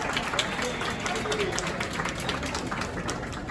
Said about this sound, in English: big round of applause for all the employees